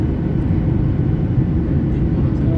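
An airliner takes off on a flight from Hyderabad to Thailand: a loud, steady, low engine roar fills the cabin throughout, with no talking.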